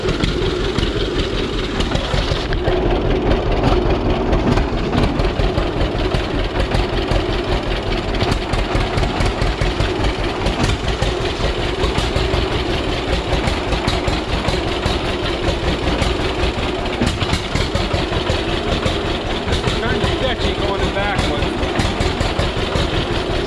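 A John Deere Model A tractor engine that sat unused for three years runs steadily and loudly close by, a continuous low throb with knocking texture throughout.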